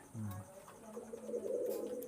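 Pigeons kept for sale coo softly and briefly near the listener, a low murmuring call under faint background sounds.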